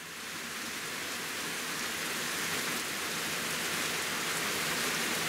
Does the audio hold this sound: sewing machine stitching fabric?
no